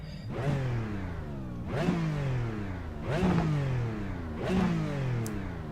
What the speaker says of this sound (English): The sound of the engine is amazing, and it's also quite fast revving.